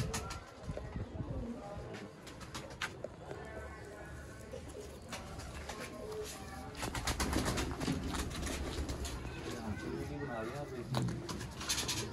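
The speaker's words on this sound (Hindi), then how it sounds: "ये हैं जी चपड़े कबूतर।" Chapra pigeons coo softly and repeatedly, several birds nearby, with scattered wing flutters and faint voices in the background.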